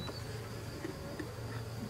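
A small honey bee swarm gives off a faint, steady buzzing hum, low and continuous, with no voices over it.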